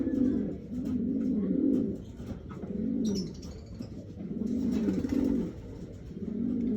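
Pigeons courting, giving repeated low rolling coos in close, rhythmic bursts, with a faint chirp partway through and no talk.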